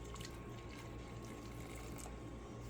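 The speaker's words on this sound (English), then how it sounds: "Just pour it over the tea bag." Boiling water pouring over a tea bag while making Southern sweet tea, a steady continuous close splash and rush of liquid with no pauses.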